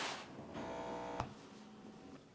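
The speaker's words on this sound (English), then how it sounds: "we are going to sew these right sides together using a 1/4 inch seam allowance just right along this edge" A sewing machine stitching fabric strips together along a quarter-inch seam, a faint steady motor whir running for about a second with a soft mechanical click, in a quiet room.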